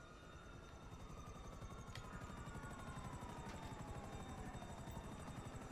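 A helicopter in Grand Theft Auto idles with a steady, fairly quiet rotor thump and engine drone, continuous throughout with no talk over it.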